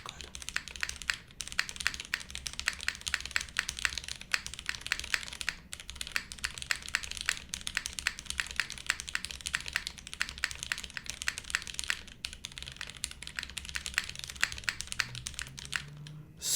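Rapid, steady typing on a tenkeyless keyboard fitted with O-rings, the dampened keystrokes clicking close and continuously with only brief pauses, no voices.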